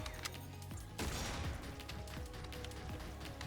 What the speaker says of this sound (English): Oh, so the turret itself does like an explosion AoE.